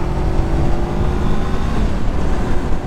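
A 2024 Honda CBR500R motorcycle accelerates on an elevated road, its engine droning loud and close with a steady roar and slight surges, no talking over it.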